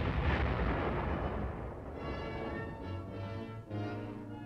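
A 105mm howitzer fires in direct-fire mode alongside an armored team, giving a heavy booming blast at the start that rolls into a long rumbling decay under a steady mechanical drone.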